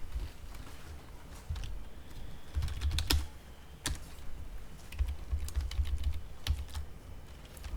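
Keys clatter on a computer keyboard while someone writes code, quick bursts of close, crisp clicks with short pauses and a few sharper taps, with no voices.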